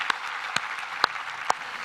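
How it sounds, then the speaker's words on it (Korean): A church congregation at a Korean worship service claps steadily, with a few sharper individual claps standing out above the continuous applause. "우리 하나님께 감사와 영광의 박수를 드리겠습니다."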